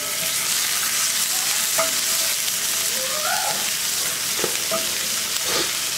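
Minced garlic and caramelizing onion frying in a pan, a constant bright sizzle with intermittent scraping and knocks from stirring, near and steady.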